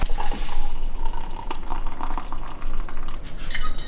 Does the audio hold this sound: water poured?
yes